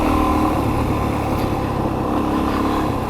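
Engine of a loaded-down Suzuki DRZ400 dirt bike running steadily, a close, continuous rumble with no clear revs or pauses.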